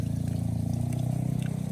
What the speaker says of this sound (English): It's pumping water from obviously the pump here through the hose.